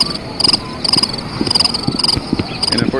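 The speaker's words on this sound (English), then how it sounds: "so you'll have to hear the crickets" Crickets chirp in bursts of rapid, high, repeated trills behind a VR game session, with faint background noise and occasional soft clicks, steady and moderately close.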